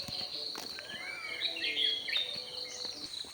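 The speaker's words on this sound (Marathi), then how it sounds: "फक्त पक्ष्यांचा किलबिलाट ऐकू येत होता" Soft bird chirps and twittering calls at dawn in a Konkan village rise over a constant insect trill, fairly quiet and distant, with no one talking.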